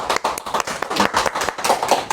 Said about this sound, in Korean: 다 같이 큰 박수를 장대성 형제에게 보내주시면